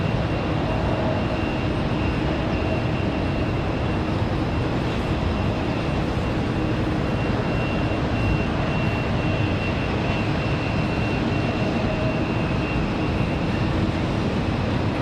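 Aircraft at the runway of Raleigh-Durham International Airport on a windy day, heard as a steady, broad roar that holds at an even loudness throughout with no talk.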